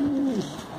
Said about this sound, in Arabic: نعدلو واحد الدورة خفيفة على الحمام ونطلقوهم